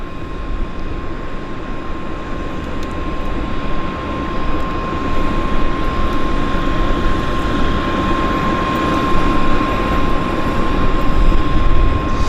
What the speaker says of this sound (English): They're running the APU on the Airliner